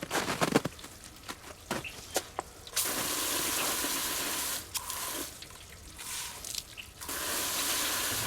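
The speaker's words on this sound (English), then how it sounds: "We'll rinse it off with some water and I'm gonna put some new water in there" A deer skull is rinsed with running water, a steady broadband gush pouring in long stretches broken by short gaps, with clattering handling noises early on; close and fairly loud, no speech.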